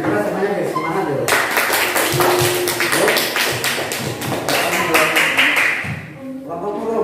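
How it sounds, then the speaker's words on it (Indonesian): A group of students claps together in a classroom, a loud burst of dense, rhythmic applause that swells and continues for several seconds before tapering off, with voices mixed in. "Tepuk tangan semuanya untuk kelompok dia."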